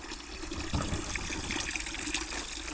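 Water runs and splashes steadily for a few seconds, close by, with no voices, on a rural farm in Serbia.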